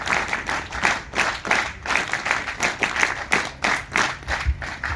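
An audience bursts into rhythmic applause, many hands clapping in a pulsing, roughly unison beat that rises and falls in loudness across the stretch, fairly close and with no voice over it.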